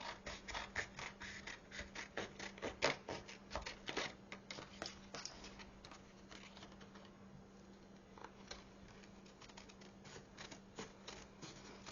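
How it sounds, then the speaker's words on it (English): Scissors cut around the border of a glued, varnished paper piece for a mini traveler notebook craft, a close run of crisp snipping and rustling clicks, busier at first then softer and steadier, with no talk. "we're going to cut around the border again"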